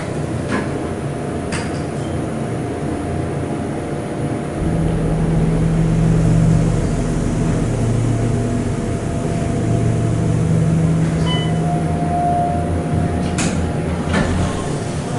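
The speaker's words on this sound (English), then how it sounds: "Nice motor." An Otis 211 LVM hydraulic lobby elevator in a hotel runs with a low, steady motor drone that swells in partway through and holds, along with a faint hum and occasional clicks, and no talking.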